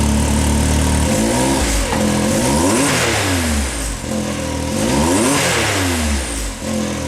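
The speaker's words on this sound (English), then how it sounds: "I think you can hear a little more turbo whistle." Can-Am X3 Evo side-by-side with a turbocharged engine and catless downpipe, revving hard in repeated sweeping bursts, loud and close, with a faint high whistle riding over the engine roar.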